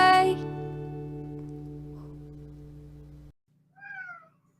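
A sustained tonal drone holds for a few seconds, then stops; after a short pause a single cat meows softly nearby.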